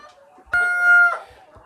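A KUB village chicken crows once in a breeding coop, a single loud, drawn-out call about half a second long, with faint clucks and scratching before and after.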